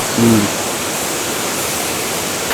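A natural waterfall near Sabarimala with fast-flowing water pours in a loud, steady, hissing roar. A brief murmur of a voice sits near the start.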